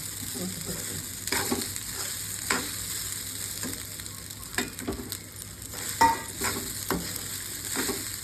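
Peanuts stir-fry in a pan for sabudana khichdi, a soft continuous sizzle broken by irregular scraping and stirring clatters, close but quiet, with no talking.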